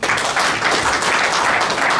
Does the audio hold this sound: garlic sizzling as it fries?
no